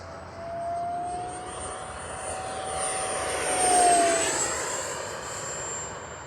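A Freewing F9F-5 70mm electric ducted-fan RC jet flying by, a steady whining turbine-like hiss that swells as it passes closest and then fades slightly, heard from the ground with no speech.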